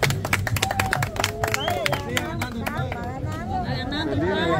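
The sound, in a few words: crowd applauding at Halloween party in plaza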